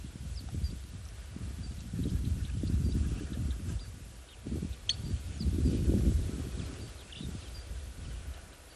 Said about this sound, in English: just to listen to the audio of birds and all the hippos